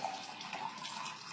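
Water pours steadily into a container being filled to the 500 millilitre mark, a quiet continuous trickling splash with no talking.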